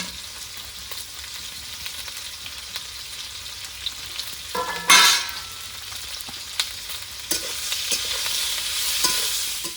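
Bitter gourd (karela) fries in a pan with chillies, a soft continuous sizzle with scraping stirs and clinks, one louder burst of crackle midway, and the frying swelling toward the end; no talk.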